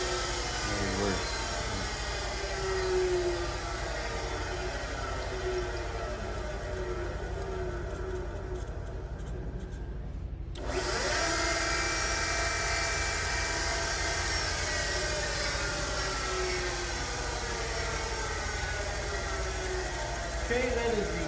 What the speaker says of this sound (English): that is the KO Lee BA960 tool grinder